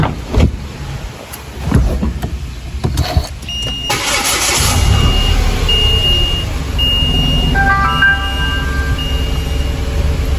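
A car engine cranks and catches after a cooling fan blade replacement and coolant refill, then settles into a steady, close idle with a faint whine.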